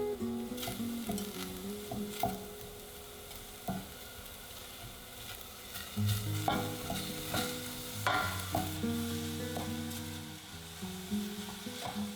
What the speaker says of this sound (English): Sauté the aromatics over medium heat until translucent.